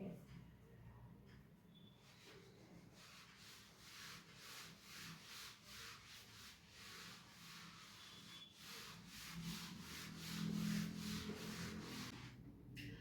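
Rhythmic rubbing strokes of an eraser or duster wiping part of a classroom board, a steady series of repeated scrubbing passes at close range with no talk.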